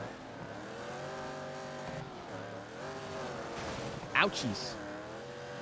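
Rally buggy engines in DiRT 2, a steady droning whine that dips and climbs through gear changes, with a short sharp scrape or squeal near the end and a voice speaking briefly over it.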